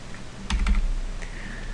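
Keys clack on a computer keyboard during Photoshop editing: a few quick, close presses in a small cluster near the middle, then a softer tap, against a quiet room.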